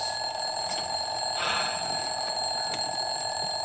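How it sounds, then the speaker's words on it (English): An alarm clock rings in a steady, continuous electronic trill in a Mr. Bean wedding scene, loud and persistent over faint background noise, with no talking. "That doesn't sound like a phone. It sounds like an alarm clock."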